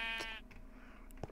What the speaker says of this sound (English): There's sheep nearby.